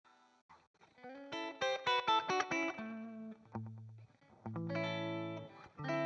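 An electric guitar played live through a distortion effect, with a run of bright sustained notes and chords, then lower held notes, clear and reasonably close with no talking.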